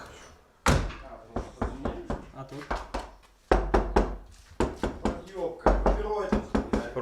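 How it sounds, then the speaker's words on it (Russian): Knuckles knock on the doors of a VAZ 2108 car that are sound-deadened with roofing felt. The knocks are dull, close, repeated thuds in quick clusters, and people talk between them. "Возьми, постучи по дверям."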